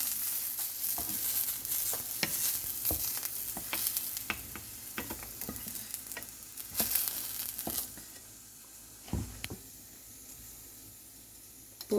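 Mustard and cumin seeds sizzle and pop in a spoonful and a half of hot tempering oil, sharp crackles and spits scattered over a steady hiss, close and fairly quiet, easing off toward the end.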